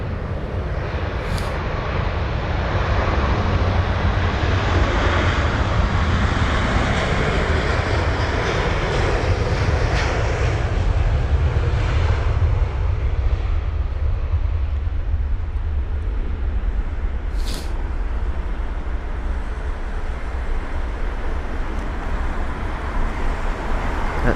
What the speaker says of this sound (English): So it's the A350 1000 for Virgin Atlantic.